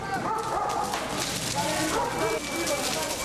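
Dogs barking and yipping amid a noisy street protest in Athens, crowd noise and voices filling the background, barks blending into the din.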